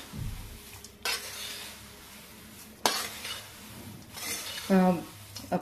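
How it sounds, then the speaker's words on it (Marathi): Thin poha chivda is stirred in a pan with a flat spatula, giving scraping and rustling strokes with occasional clinks against the metal, close and moderately loud. "आता हा चिवडा अगदी व्यवस्थित ढवळून घेऊया."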